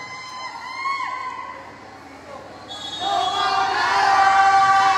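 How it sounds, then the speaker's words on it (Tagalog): Spectators at a volleyball finals game, OMSC vs BA-MA Game 3, cheering under a commentator's voice, the crowd noise swelling louder in the second half. "naririnig ko na naman yung masarap na hiyawan doon"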